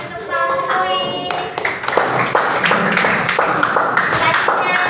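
Children clap for a classmate in a school lesson on slogans, scattered sharp claps building into a brisk burst over a short earlier tone, with young voices mixed in.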